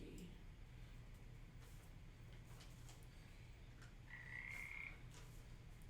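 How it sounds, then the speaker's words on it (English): Frogs croak in a swamp ambience during a tabletop role-playing game session, a faint low background chorus with one clearer croak near the end. "at least we have the sound of the frogs"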